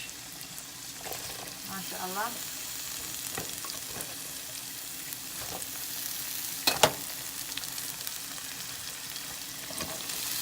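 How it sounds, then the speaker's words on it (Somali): Cabbage and other vegetables frying in a pan for a Somali stew, a steady close sizzle with occasional stirring clatter while someone speaks briefly. "hadeerna waxaa ku ridayaa cabbage"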